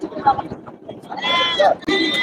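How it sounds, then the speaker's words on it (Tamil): Sheep bleat at the busy Melapalayam livestock market on a Tuesday, with two or three close, wavering calls amid people talking nearby. "ஆடுகள் இதெல்லாம் செம்மறி ஆடுகள்"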